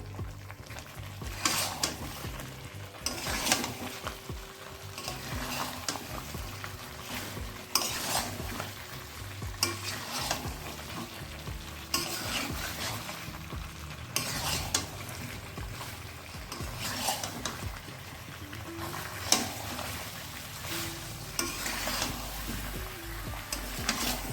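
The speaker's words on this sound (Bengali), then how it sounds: "আলুটাকেও মশলার সঙ্গে ভালো করে কষিয়ে নেব" Potatoes fry on high flame with spices in a pan, a steady close sizzle broken by repeated scraping stirs of a spoon, continuous and fairly loud with no voices.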